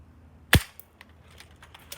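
An airsoft gun fires one sharp, loud, close crack, followed by several fainter clicks and ticks spread over the following moment.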